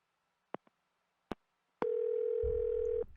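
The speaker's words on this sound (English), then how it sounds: "Come on, Michael. Pick up the phone." Prison phone in a video game: a few sharp clicks as coins drop in, then a single steady electronic tone lasting about a second, with a low hum beneath; no one speaks.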